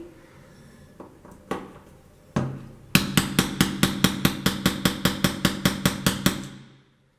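A few scattered knocks, then a quick steady run of sharp hammer strikes driving a pin in while installing a stained glass window, loud and near, ending abruptly.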